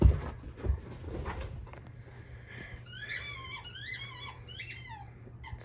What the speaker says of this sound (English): This is what my life is like with a dog who loves squeaky toys.